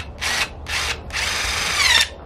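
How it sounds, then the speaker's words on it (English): A power drill attaching a hanger to a square wreath whirs in three bursts, two short and one longer, its pitch climbing near the end of the last run. "I use the drill to attach this"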